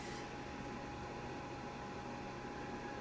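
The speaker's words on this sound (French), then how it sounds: "je sais pas si vous entendez le ventilo, mais ça fait quand même du bruit" The fan of a food dehydrator drying courgette slices runs steadily, making a constant airy whoosh and hum that stays even throughout, moderately close, with no talk.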